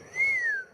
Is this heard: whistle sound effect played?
yes